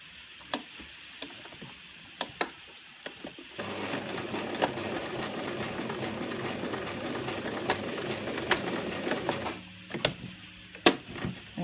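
A sewing machine stitches straight lines on a fabric sensory maze cuff, a few isolated needle ticks giving way to a sustained rapid run of stitching, then stopping back to sparse clicks, close and moderately loud.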